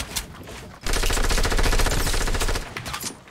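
Fortnite gunfire: a loud, continuous automatic burst of rapid shots that starts abruptly and runs for about two seconds before tapering off into scattered quieter sounds.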